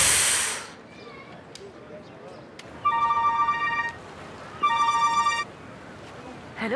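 A telephone rings on an outgoing call, giving two clear electronic ring bursts separated by a pause over a quiet, hissy background with no talking.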